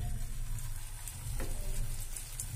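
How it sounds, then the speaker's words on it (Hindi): Aloo tikki, which are potato patties, fry in hot oil with a faint, steady sizzle and a soft crackle. It is quiet and brief, with no talking. "अब हम इनको फ्राई करेंगे।"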